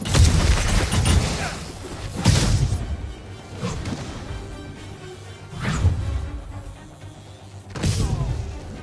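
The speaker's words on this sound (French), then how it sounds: "Attention, grenade!" Grenade blasts boom during combat in Marvel's Spider-Man, several heavy explosions a couple of seconds apart with whooshing debris between them, loud and close, while voices shout over the action.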